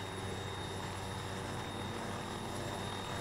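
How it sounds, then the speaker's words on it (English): A helicopter's steady rotor drone and engine whine in the video game Arma 3 hold constant throughout, a dense, continuous roar with no talking. "this helicopter would otherwise be terribly loud"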